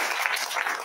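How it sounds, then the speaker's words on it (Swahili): A congregation at a Sunday church service claps together in a short, dense burst of applause. "Washindi wangempigia Yesu makofi"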